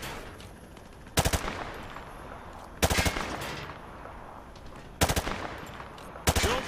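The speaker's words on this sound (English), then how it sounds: "Grab that weapon off the table and fire at the targets behind you" Bursts of automatic gunfire at shooting range targets in Call of Duty: Modern Warfare 2, with four sharp, loud volleys separated by pauses over a low background rumble.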